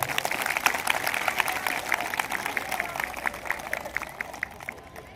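A crowd claps at a community hall inauguration ceremony in Anjar, a dense patter of hand claps that gradually thins and fades toward the end, with faint murmuring underneath.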